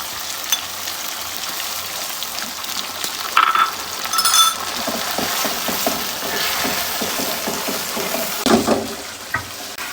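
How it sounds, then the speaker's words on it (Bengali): Water is poured into a pan of spiced chicken curry where the oil has separated, giving a steady hiss and sizzle with a few clinks and a sharper rush of liquid toward the end. "এখন আমি এর মধ্যে একটু পানি আসতে দেবো"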